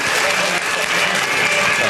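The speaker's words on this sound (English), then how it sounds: "Give him a round of applause." A studio audience at a comedy quiz show breaks into loud, dense, sustained applause for a guest, the clapping steady and close throughout.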